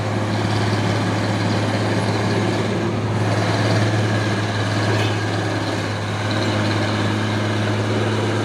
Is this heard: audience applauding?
no